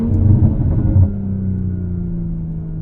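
A track-built Toyota Supra's engine, loud and close, with a low rumbling growl that swells briefly and then settles into a steady drone while driving.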